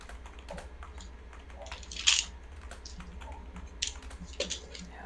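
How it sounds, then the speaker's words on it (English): Someone types on a computer keyboard in an irregular flurry of close, crisp key clicks, with a few louder clacks standing out over faint background hum. "I'm just typing in their chat right now."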